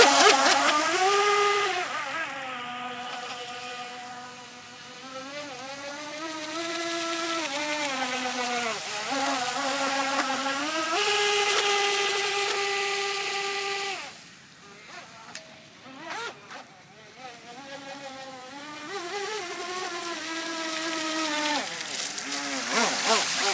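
An M-Jet Supersprint RC jetboat on a 4S LiPo whines at high pitch, rising and falling as the throttle is worked. Its motor climbs to several sustained screaming runs, cuts out briefly near the middle, then picks up again.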